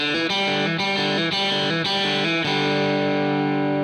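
A distorted electric guitar plays a quick repeating lick of hammered-on notes, then rings out on a sustained chord.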